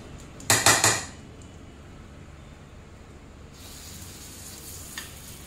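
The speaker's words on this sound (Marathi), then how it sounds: "आता आपण यात आप्पे घालून घेऊया" Appe batter meets a hot appe pan: a burst of metallic clanks and rattles comes first, then quiet, then a soft sizzle rises and continues faintly.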